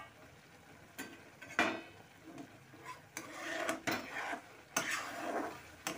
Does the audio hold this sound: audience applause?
no